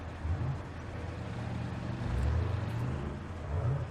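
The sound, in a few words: vehicle engine revving in the video game Arma 3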